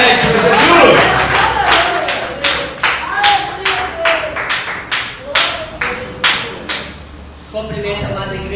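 A church congregation claps in a steady, rhythmic beat, loud, spaced slaps at a lively worship tempo with crowd murmur and voices underneath, then the clapping breaks up into scattered applause at the end.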